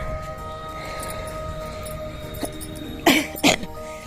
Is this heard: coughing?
yes